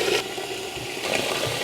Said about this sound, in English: We're going to fill this up with water.